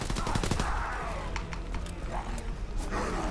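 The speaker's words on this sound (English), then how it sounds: "This machine pistol is total booty though." Rapid machine pistol gunfire from a WW2 zombies shooter game, a fast burst of sharp shots up front followed by scattered single shots and game noise at a steady loud level.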